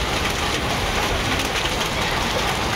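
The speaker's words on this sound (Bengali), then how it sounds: "এগুলো হলো বৃষ্টির লগে শিল পড়ছে" Hailstones falling with a heavy downpour in Goraimari, Bongaigaon district, a dense, steady roar of rain and pelting ice lasting throughout, loud and close with no pauses.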